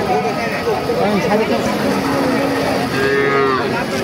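Cattle mooing with long, low calls amid a busy crowd at Khochabari cattle market, people talking loudly all around.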